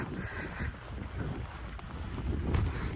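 Cold, frosty wind blows outdoors around a village cattle pen. It makes a steady, loud broadband rumble that buffets the microphone for the whole stretch, and no one speaks.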